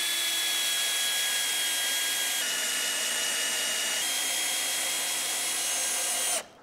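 A power driver runs steadily, sinking a 150mm screw through a hinge plate into a fence during a gate installation, a continuous whine that holds for about six seconds and then stops abruptly.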